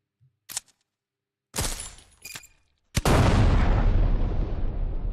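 Video-game explosions and gunfire from a grenade launcher: a couple of sharp blasts, then a loud booming burst that rolls into a long, dense rumble, close and without talk.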